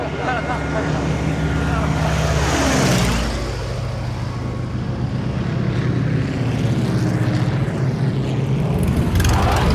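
A propeller fighter plane from a wartime film scene roars low over an airfield, its loud engine drone swelling and fading across the whole stretch, with a background score and some talk beneath.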